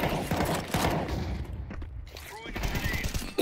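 Bursts of rapid gunfire in the video game Counter-Strike 2 crackle amid mechanical clicks and a voice talking, the shots uneven and fairly close.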